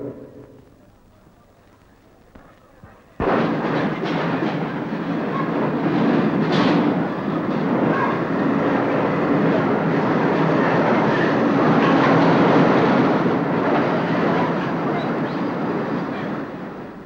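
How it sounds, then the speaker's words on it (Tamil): The Dadar Express pulls into a railway station platform: after a few quiet seconds a loud rolling rumble of wheels and carriages abruptly starts and continues steadily, with rhythmic rattling and clatter close by. "தாதர் எக்ஸ்பிரஸ் இன்னும் சிறிது நேரத்தில் 5வது பிளாட்பாரத்திற்கு வந்து சேரும்."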